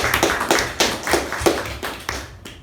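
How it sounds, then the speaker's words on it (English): A small meeting audience at a Toastmasters club claps for a speaker and evaluator: a handful of distinct, irregular claps rising and fading, close and fairly loud, thinning out toward the end. "A huge round of applause to the speaker and the evaluator."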